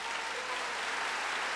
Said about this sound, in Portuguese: pode aplaudir porque isso é verdade.